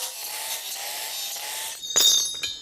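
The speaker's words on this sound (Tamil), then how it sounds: "இப்போ இந்த ஒரு ஒரு ஹோல்ஸையும் ஒரு ஒரு பீஸாக தனித்தனியாக கட் பண்ணி எடுக்க போகிறோம்" Metal pipe clamp pieces being cut apart while building a race car frame, a steady rasping cut for most of the stretch, then sharp clattering scrapes and a brief gap near the end, no talk.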